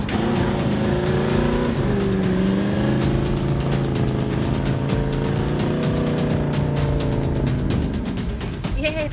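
4WD engine revving hard in low gear while climbing a muddy bush track, a loud continuous roar with shifting pitch, close to the vehicle, with faint talk underneath.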